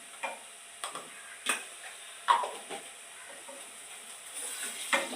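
Chopped onion with ginger-garlic paste fries in a pan with a soft, steady sizzle. Faint intermittent scraping taps from stirring come every second or so, and the room is otherwise quiet.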